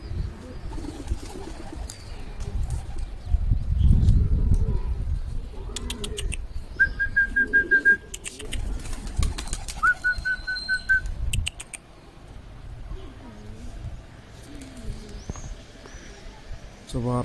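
Homing pigeons coo softly in a loft, low murmuring calls mixed with a few thin whistles while someone talks over them nearby.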